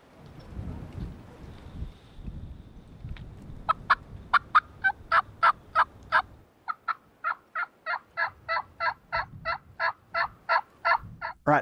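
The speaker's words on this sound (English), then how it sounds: "high-pitched calling with the final roost pot call as well as the tongue cutter plus mouth call" Turkey hunting calls on a green hillside, made with a roost pot call and a tongue cutter mouth call: loud, high-pitched, evenly spaced sharp yelps repeating in a steady run of a dozen or more notes after a stretch of low rumbling background.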